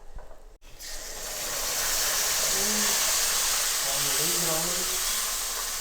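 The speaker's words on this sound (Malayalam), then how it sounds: "ഇനി വിനാഗിരി ഒഴിക്കാം കേട്ടോ." Boiled and cooled vinegar is poured into fish pickle masala as it cooks in a hot pan, setting off a loud, swelling sizzle and hiss that keeps building after a brief pause.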